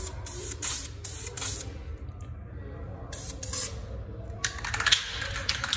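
Light coats of white paint hiss from a spray can in several short bursts, close and fairly quiet, separated by brief pauses, with a longer spray toward the end.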